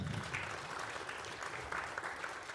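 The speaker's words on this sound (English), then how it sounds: "Yellow room claps" One section of a church congregation claps together during Sunday worship, a soft, even patter of many hands held for a couple of seconds in a room.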